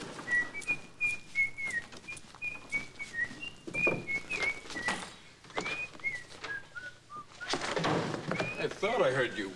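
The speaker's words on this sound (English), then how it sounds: "I thought I heard you whistling" A person whistles a wandering, bird-like tune in a shop, the melody rising and falling in short phrases over soft background bumps, with a brief voice at the end.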